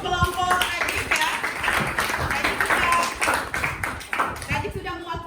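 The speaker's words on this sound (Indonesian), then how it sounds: "beri tepuk tangan dulu" Classroom students break into a burst of clapping for a group at the end of a lesson, with a teacher's voice and other voices talking over and between the applause.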